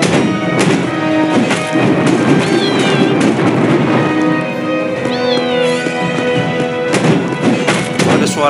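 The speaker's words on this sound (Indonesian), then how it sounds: "Suara kucing ya, ternyata musuhnya kucing mutan cat." Mutant cat enemies meowing in the open-world action game Dragon Odyssey, several rising meows over loud continuous game noise with thumps and footstep-like knocks.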